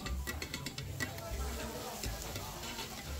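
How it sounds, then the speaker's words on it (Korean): Cabbage and leftover fillings for monjayaki are stir-fried on a hot griddle, a soft continuous sizzle broken by quick scraping and stirring strokes from a spatula, heard close. "양배추와 남은 건더기 다 넣고, 쉐키쉐키 잘 볶아줍니다."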